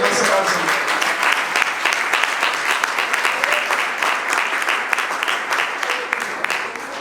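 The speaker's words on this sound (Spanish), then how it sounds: "Si puede dar palmas, gracias." A church congregation claps hands together in a steady rhythmic beat, loud and close, lasting several seconds without a break.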